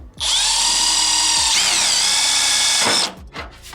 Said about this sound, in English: we're using a super small drill bit